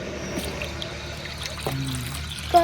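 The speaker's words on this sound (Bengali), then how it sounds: "এখন আমি দুধটা দিয়ে দেম" Milk trickles and pours into a pan of melted sugar and jaggery, a soft close dribble with small splashes, faint and brief with no talk.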